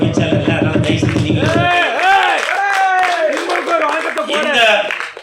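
Audience applause at a Tamil cinema young journalists' cricket tournament prize ceremony, a dense clapping burst at the start, then a loud, reverberant voice speaking over the hall with the applause fading away.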